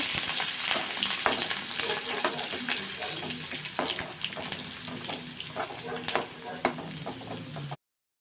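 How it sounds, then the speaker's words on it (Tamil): Curry leaves and coriander leaves sauté in a pan with a steady frying sizzle and occasional stirring scrapes, fairly close, ending abruptly in silence near the end. "2 கருவேப்பிலை, கொஞ்சமாக மல்லி இலை சேர்த்து நல்லா வதக்கி விட்டுக்கோங்க"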